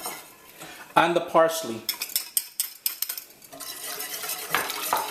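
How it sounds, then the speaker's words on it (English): Spoon stirring chopped Scotch bonnet pepper and parsley in a metal pan for a breadfruit pie filling, with clattering scrapes and light clinks in an irregular rhythm close by, and a short spoken remark partway through. "So all you want to do is keep stirring."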